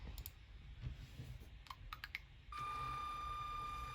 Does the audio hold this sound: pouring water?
no